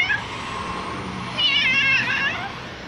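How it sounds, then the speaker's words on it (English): A cat meows with a wavering, vibrato tone, a drawn-out warbling cry close by over a low background rumble. "The vibrato meow."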